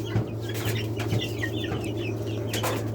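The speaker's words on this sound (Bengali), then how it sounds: "আমার আরও অনেক মুরগি আছে, দেশি মুরগি আছে বাড়িতে" Chickens clucking close by on a farm, a few short soft clucks over a steady low hum, with no voices.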